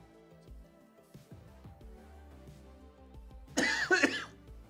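A short burst of coughing near the end, loud and close, over soft background music.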